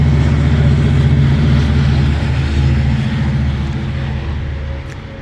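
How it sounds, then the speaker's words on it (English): A diesel train locomotive rumbles past outdoors with a loud, steady low drone that slowly fades toward the end. "That's a diesel train, too, going by."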